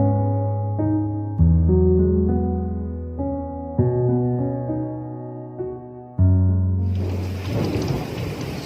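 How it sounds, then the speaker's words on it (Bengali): A rain and thunder effect for a Bengali radio drama: deep, sustained musical tones ring in slow steps, then a dense hiss of rain swells in over the last couple of seconds. "সে সকাল থেকে বৃষ্টি ঝরছে।"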